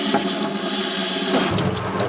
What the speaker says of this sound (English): I'm going to run my water till I get hot water.